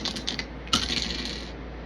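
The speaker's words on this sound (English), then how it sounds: "I'm going to roll the Astro Dice, see who comes out first" Astrology dice are rolled, giving a short run of small, faint hard clicks and rattles with one sharper knock partway through, heard alone with no speech.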